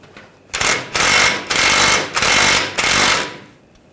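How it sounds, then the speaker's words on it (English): A power tool with an 18 mm socket hammering loose the front lower ball joint nut on a 2009-2017 Volkswagen Tiguan: four loud, close, rattling impact bursts separated by short gaps. "I'm gonna use an 18 millimeter socket."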